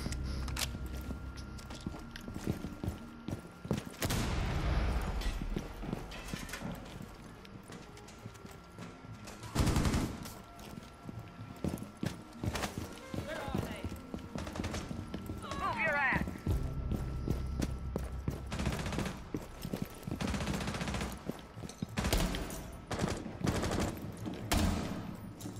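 Gunfire in the video game Rainbow Six Siege during a match on the Consulate map: scattered sharp shots and short bursts punctuate a busy stretch of footsteps and game noise, with frequent talking throughout.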